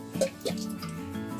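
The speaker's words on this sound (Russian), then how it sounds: "Водички чуть-чуть добавлю" Water poured into a flour dough, a few small drips and wet plops close by, with a faint steady hum underneath.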